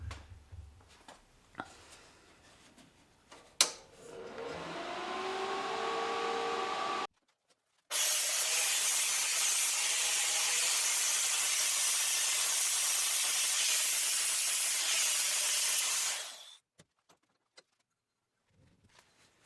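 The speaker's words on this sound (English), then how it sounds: "I have never actually tried to use a foot pedal TIG welder before" A foot-pedal TIG welder, used on a custom pedal box for a turbo Hayabusa Willys Jeep, gives a steady loud electric hiss in two long bursts. A short buzz and a few clicks come before them, and quiet follows.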